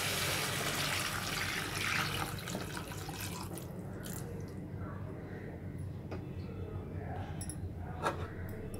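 Second-press coconut milk pours into a pot of moringa leaf soup, a soft liquid splash and trickle that fades after a few seconds into faint drips and quiet kitchen sounds.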